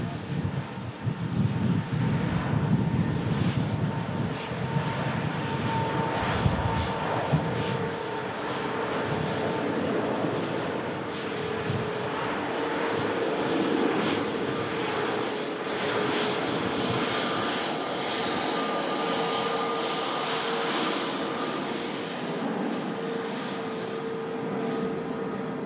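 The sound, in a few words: large aircraft taking off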